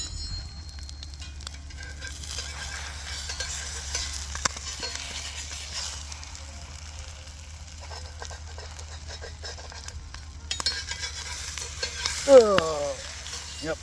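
Breakfast frying in a cast iron pan on a camping stove outdoors, with a soft continuous sizzle under a low stove roar, occasional clicks and clatters, and a brief louder clatter near the end.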